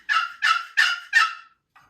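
Hen turkey yelps from an HS Strut Mama Hen call, four loud, close, evenly spaced raspy notes followed by a faint short trailing note, with no talking.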